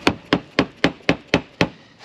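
Seven crisp hammer taps on metal clips strike in an even, quick rhythm, close and fairly loud, with nothing else around them.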